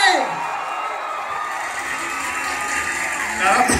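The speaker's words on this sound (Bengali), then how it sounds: "জোরে হাততালি হবে সবাই মিলে।" A lively crowd at a film trailer launch event cheers, applauds and shouts continuously, a dense wash of voices swelling louder near the end.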